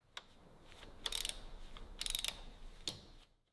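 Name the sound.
bolts being tightened with a ratchet on a Rolls-Royce Boat Tail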